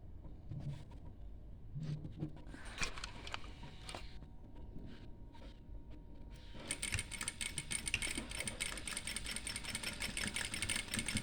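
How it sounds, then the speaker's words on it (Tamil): A sewing machine stitches petticoat cloth. Scattered light clicks and handling noises give way to a steady, moderately loud mechanical whir that runs to the end. "இந்த இடத்துல ஒரு தையல் போடணும்"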